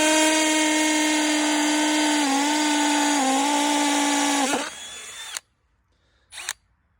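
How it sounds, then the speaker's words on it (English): A Milwaukee M12 Fuel 12-volt cordless drill bores through wood with a 5/16 inch bit, a loud, steady high-pitched whine for about five seconds that dips slightly under load, then spins down and stops, followed by a brief clatter. "for the first test, we're going to be using a 5/16 inch drill bit"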